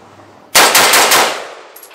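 A CMMG Endeavor .308 rifle emptying its magazine in rapid fire, a loud, close burst of several quick shots running together, then a fading echo.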